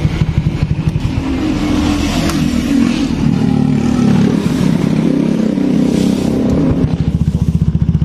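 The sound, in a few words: Honda Beat 2019 scooter engine with loud exhaust running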